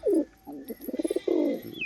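Close cooing of an active male crested Jacobin pigeon: a throaty rolling coo, a short pulsing burst of notes, then another drawn-out coo, clear against a quiet background.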